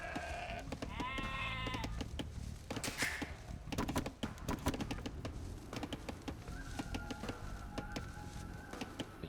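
Repeated sheep bleats from the Age of Empires II Definitive Edition video game, wavering calls rising over a busy bed of clicks, thunks and tapping game effects, with no talk.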